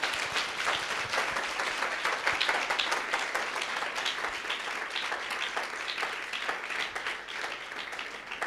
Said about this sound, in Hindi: कोई ताली बजा के जोर से प्रभु को धन्यवाद दो।